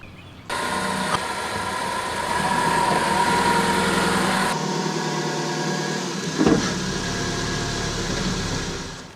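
A 2013 Ford Focus engine runs at a steady, moderate hum as the car drives up onto ramps. The hum shifts partway through and shows a brief bump near the end, with no talking.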